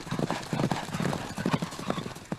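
Hooves of a galloping Campeiro Marchador horse pound in a fast, steady rhythm, close and loud, with a brief whinny-like sound mixed in.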